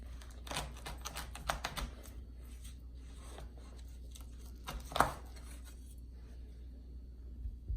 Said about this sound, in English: use a long enough, sharp enough knife to where it'll get most of the way through it